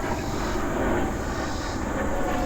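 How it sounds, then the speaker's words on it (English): An airplane passes over Stock Creek in South Knoxville, a steady broad rumble that blends with running stream water and holds even throughout, with no talking. "Airplane going over."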